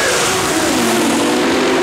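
An Audi A4 with a five-cylinder engine accelerates hard on the road, a loud, close, continuous roar with a rising engine tone throughout the brief moment, no talking heard.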